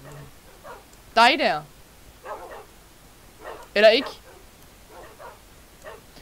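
Two sharp dog barks from Minecraft, about three seconds apart, ring out loud over softer spoken Danish talk between them.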